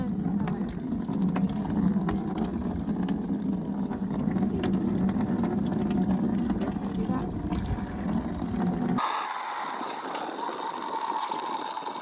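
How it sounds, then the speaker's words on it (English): Maple sap pours from the holes in a bucket lid in a steady splashing rush that runs for several seconds, then abruptly thins to a lighter trickle. "I just let it pour out of the holes there."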